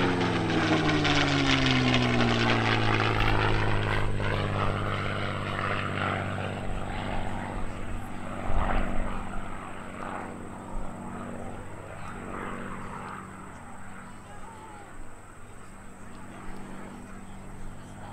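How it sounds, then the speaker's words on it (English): A P-51 Mustang warbird roars past at the 2013 Lehigh Valley Airshow, its piston-engine drone loud at first and then falling in pitch and fading as it moves away, with an announcer talking over it. "there is nothing more fun than being in that seat while the P-51 is flying"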